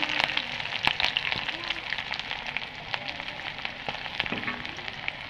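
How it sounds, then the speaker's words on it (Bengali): Bay leaf, nigella seeds, garlic cloves and green chillies fry in hot oil with a dense, steady sizzle and crackle close by, punctuated by sharp pops and occasional utensil taps. "এটা ভালো করে ভেজে নিচ্ছি"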